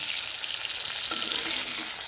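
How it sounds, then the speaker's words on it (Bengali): Food sizzles steadily in hot oil, a close, continuous crackling hiss with no talking. "এবার আমি ভাজাটা ভেজে নিচ্ছি।"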